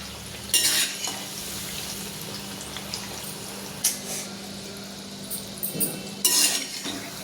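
Small batches of Diwali snacks deep-frying in oil over a low flame, a steady soft bubbling hiss broken by a few sharp clinks and scrapes of a slotted spoon against the pan.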